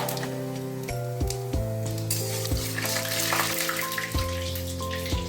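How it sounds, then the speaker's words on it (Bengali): Dried red chillies and panch phoron sputter and crackle in hot oil with a bright, busy sizzle, while a steady tonal hum runs underneath throughout. "আর এবার তেল গরম হচ্ছে, শুকনো লঙ্কা 5 ফোড়ন দিলাম"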